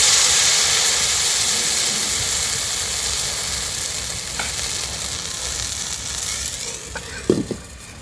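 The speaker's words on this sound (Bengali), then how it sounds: "আবার 1 হাতা ব্যাটার নিয়ে দিয়ে দেব।" Semolina batter for chitoi pitha sizzles steadily in an oiled pan, a dense continuous hiss that softens slightly over time, with a couple of light utensil clinks near the end.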